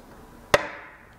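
A single sharp, close chop as a knife cuts through a block of handmade swirled soap, a crisp thud with a short fading tail, alone in a quiet room.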